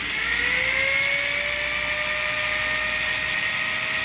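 A handheld power drill boring into metal clamped in a vise, a steady high-pitched whine that slowly climbs in pitch as the speed picks up, heard alone and fairly loud.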